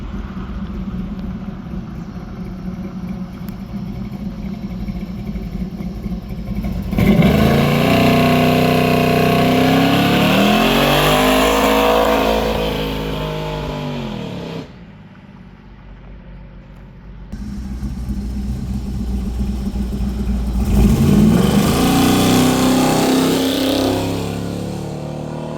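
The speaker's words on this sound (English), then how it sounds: "Here's the last test drive on the hearse." A hearse with a big block engine on a test drive, its exhaust droning steadily, then revving up in two loud surges with a quieter lull between them. No talking.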